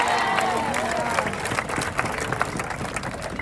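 A church congregation applauding steadily during a pastor's sermon, with scattered claps and faint voices mixed in, moderately loud and continuous.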